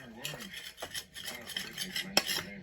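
A small spatula scrapes and spreads grated venison thin across a plate, giving soft, close scraping and rasping strokes with light clinks. No one speaks.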